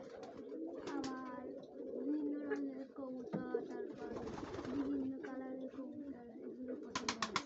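Pigeons coo steadily at a crowded pigeon fair with racers and other breeds on sale, layered with close chirps and bird calls while people chatter nearby.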